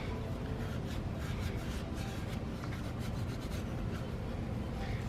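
An abrasive pad scrubs an engine cylinder head around the valves, a soft, continuous gritty rubbing at low level with faint, irregular strokes.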